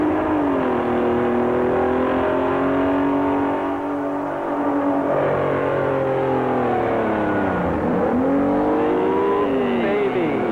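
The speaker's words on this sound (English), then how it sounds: "And this is a big old 74 Kenworth. 74 Kenworth with V12 Detroit power. Look at that thing hook up." A 1974 Kenworth truck with a V12 Detroit engine pulling hard at a dairyland super nationals event, a loud, rising and falling diesel roar with shifting engine pitch, close and sustained, with an announcer talking over it.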